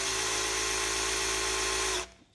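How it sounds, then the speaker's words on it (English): A weak battery-powered cordless drill whirs steadily at high speed during an Oldsmobile Cutlass 350 Rocket V8 engine rebuild, then winds down at the end. "And I have a pretty crappy drill, battery powered, so it's not very, very strong."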